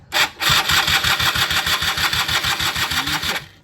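A Yamaha F1ZR motorcycle engine, freshly rebuilt, runs steadily at close range with a rapid, even pulsing idle, starting abruptly and cutting off near the end.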